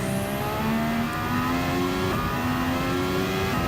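Race car engine accelerating in the Gran Turismo racing game, a steady rising mechanical whine climbing through the revs with a brief shift, loud and continuous without talk.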